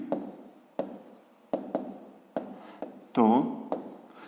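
A pen writes on paper during a fifth-grade maths exercise, giving short repeated scratching strokes in a regular rhythm, with one brief whistling squeak partway through.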